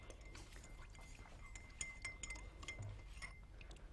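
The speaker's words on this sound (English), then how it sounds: "I am mixing salt in the cold water as well as salt in the hot water" Salt being stirred into water in a glass, faint scattered clinks and light taps against the glass in an irregular rhythm, quiet and close with no voices.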